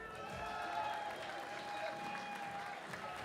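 Audience applause at the finals night of Akureyri Open 2024, a steady wash of clapping from a crowd filling the whole stretch without pause, with a faint sustained tone running underneath.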